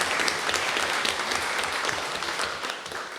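An audience at a talk event breaks into dense, sustained applause, many hands clapping steadily and fairly close, tapering slightly toward the end.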